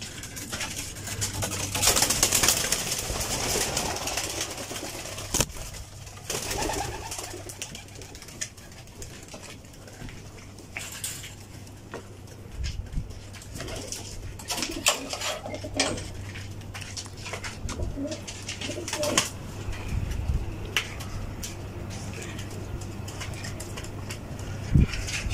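A group of pigeons, just released, coos steadily through a low continuous drone, mixed with scattered wing flaps, clinks and bumps; no one speaks.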